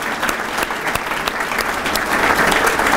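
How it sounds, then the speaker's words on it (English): Applause at a scholar-athlete awards ceremony, a sustained, dense round of clapping from a crowd indoors, steady and loud for the whole stretch. "We've already had a round of applause for Ann, Maxim, Chrissy, and the whole staff"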